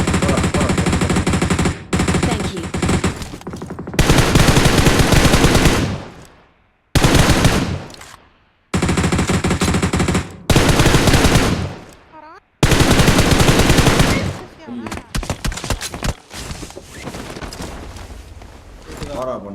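Video game gunfire empties whole magazines in long rapid bursts of loud, close machine-gun fire, separated by short pauses and reloads, with talk mixed in between the volleys.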